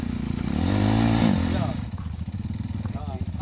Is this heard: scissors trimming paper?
no